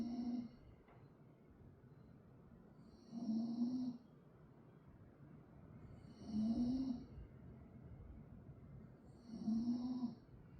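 Slow, deep breaths in and out during a hip mobility and flexibility stretching routine, four faint soft swells spaced about three seconds apart against a quiet background.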